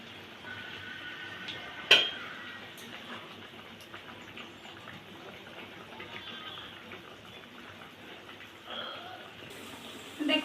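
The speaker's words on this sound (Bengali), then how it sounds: "দেখুন ঝোলটা কি সুন্দর ফুটছে, এভাবে বুদবুদ করে ঝোলটা সুন্দরভাবে ফুটে শুকিয়ে আসবে" Fish-head curry (muri ghonto) with flattened rice simmering in a pan, a steady soft bubbling and gentle burbling close by, with one brief clink of a utensil near the start.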